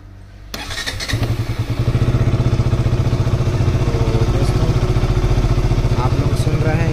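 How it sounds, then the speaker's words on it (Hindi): A KTM RC 200 motorcycle, a 2021 BS6 model in neutral, is cranked and fires up with a sharp catch, then settles into a loud, steady, rapidly pulsing single-cylinder idle close to the microphone. "अब हम स्टार्ट करते हैं बाइक को"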